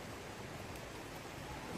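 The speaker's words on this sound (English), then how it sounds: "You can hear how close the creek is there." A creek flowing right beside a disc golf course fairway makes a steady, faint broadband rush of running water with no talk over it.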